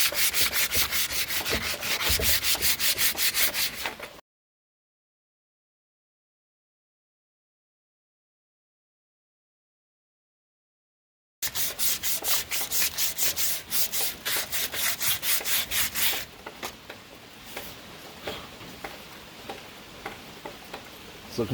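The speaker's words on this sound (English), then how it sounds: "Now I'm just going to lightly go over it with 120 sandpaper." 120-grit sandpaper rubs back and forth over a wooden bolt-action rifle stock in quick, steady strokes, then stops for several seconds of silence before the rasping resumes and fades to lighter, intermittent passes.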